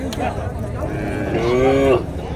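Cattle at a native cattle market in Tirupattur district, heard close up with a clear, drawn-out moo near the end over a busy background of market noise and voices.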